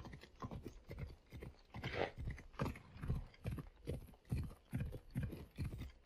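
A horse in the video game Assassin's Creed Odyssey clip-clops along in a steady, close, rhythmic gait of hoofbeats, loud and continuous throughout, with no voices over it.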